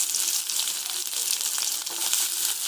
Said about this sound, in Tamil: இதில் கட் பண்ணி வச்சுக்கிற சின்ன வெங்காயம் ஆட் பண்ணிக்கலாம்.